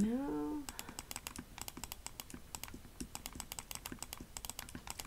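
Rapid, irregular mouse clicks during newborn photo retouching to remove baby acne, crisp and fairly faint, preceded by a brief rising electronic tone.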